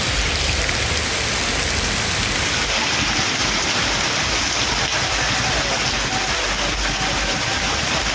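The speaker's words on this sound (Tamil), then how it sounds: "சுமார் அரை மணி நேரத்திற்கு மேலாக இடி மின்னலுடன் கோடை மழை" Heavy summer rain with thunder and lightning pours down steadily, a dense, loud, unbroken hiss of falling water with no voices.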